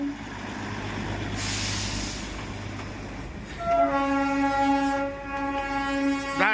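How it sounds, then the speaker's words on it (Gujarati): The Darjeeling toy train runs past at about 7,000 feet. A low rumble gives way to loud, repeated whistle blasts from close by, and no voices are heard. "દર 5 મિનિટે આ રીતના અહીંયા ટ્રેન ચાલતી હોય છે"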